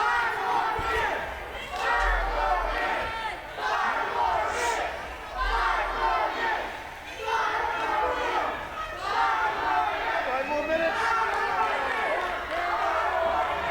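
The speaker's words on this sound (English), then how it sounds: "The crowd wanting 5 more minutes." A large wrestling crowd chants in steady rhythmic waves, loud and continuous, voices rising and falling together in an arena during a World League Wrestling show.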